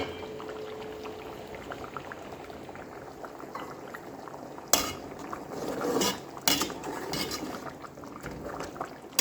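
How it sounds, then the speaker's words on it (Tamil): A pot of roasted-coconut chickpea curry at a rolling boil, with soft steady bubbling under clinks of a metal lid and spoon against the pan partway through, fairly close and with no talk. "நல்லா கொதிக்குது."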